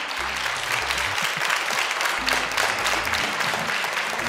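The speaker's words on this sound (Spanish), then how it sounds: "Un aplauso para él." Studio audience applauding the Spanish ambassador to Guatemala, Máximo Cajal, on a TV show: steady, dense clapping throughout, with low murmurs or music-like tones beneath.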